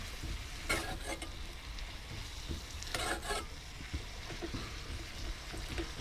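A stir-fry simmers and sizzles in a wok on a boat over a lowered flame, a soft constant crackle with a few louder bursts of frying, close and fairly quiet, and no one speaking.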